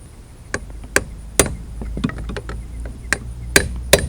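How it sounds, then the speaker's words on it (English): A screwdriver prying apart a part on a 2015 Jeep Grand Cherokee during upper control arm work gives sharp metallic clicks and knocks at irregular intervals over a low background hum, close up and with no talking. "you're going to take a screwdriver and slip down in there and separate that a little bit"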